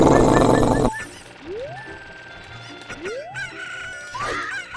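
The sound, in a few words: chickens clucking in the video game Zelda: Ocarina of Time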